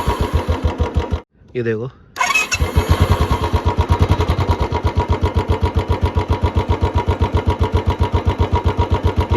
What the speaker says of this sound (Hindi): बट मैं आपको सेल्फ मार के इसकी साउंड सुनाता हूँ।